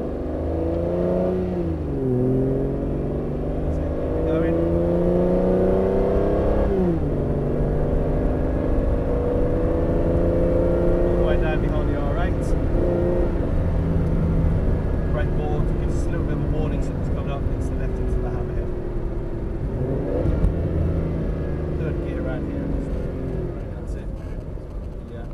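An Aston Martin accelerates around a race track, its engine note climbing and dropping through several rising sweeps as the car pulls up the straight, loud and close, with a voice talking over it.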